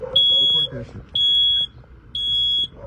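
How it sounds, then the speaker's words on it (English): A carbon monoxide alarm going off in a house, sounding three loud, shrill sustained beeps in an even rhythm, each about half a second long, with indistinct voices and room noise running underneath. "From a carbon monoxide alarm that kept going off."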